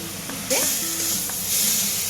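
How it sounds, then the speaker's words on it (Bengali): Raw prawns hit hot spice masala in a pan, bursting into loud sizzling with a few spatula knocks and stirring scrapes. "এই মশলার সাথেই আমি এই চিংড়িগুলো কাঁচা অবস্থাতে দিয়ে দিলাম"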